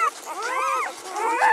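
A Great Pyredane puppy whimpers in a string of high, wavering whines and yips, close and clear, rising and falling in pitch over a quiet background.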